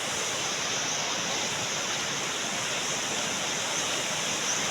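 A flooded river rushes after a typhoon, a loud, steady, broadband roar of fast water that fills the whole span without a break.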